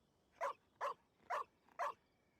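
Four evenly spaced barks from a dog in the Genshin Impact video game, each short and clear, heard alone against a quiet background.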